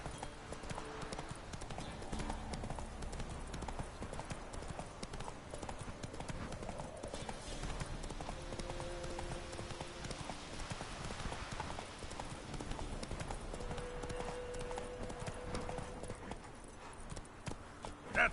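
Roach, Geralt's horse in The Witcher 3, gallops with steady rhythmic clip-clopping hooves throughout, close and continuous under a low game ambience with faint musical tones.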